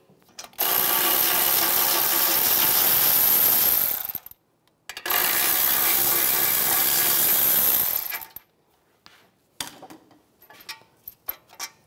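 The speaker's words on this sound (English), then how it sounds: "take the two bolts out, use a 18mm socket" A power tool with an 18mm socket zips out the brake caliper bracket bolts on a 2011-2019 Ford Explorer in two loud, steady whirring runs of about four seconds each, followed by scattered metallic clinks and rattles.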